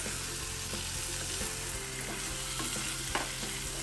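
Fried rohu fish pieces, seasoned with turmeric, chili and salt, sizzle in a tomato and onion gravy for a rohu curry with spring onion greens; a steady close hiss runs throughout with a few soft stirring clinks, and no voices.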